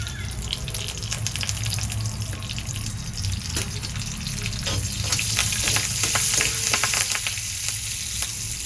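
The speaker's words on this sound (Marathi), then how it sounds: "इथे मी तेल घेतलं चमचावर, कढीपत्ता घातला आणि हिंग घालते" Hot oil sizzles steadily in a spoon as curry leaves and asafoetida go in for a garlic-greens thecha tempering, a dense, close crackle with brief sharper pops, no talking.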